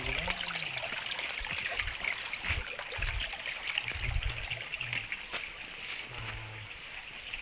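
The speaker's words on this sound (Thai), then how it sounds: "ธรรมชาติโอ้น้ำไหล" A stream flows through natural surroundings near a hill-tribe village, with continuous trickling and rushing water heard close by and a few soft low thuds underneath.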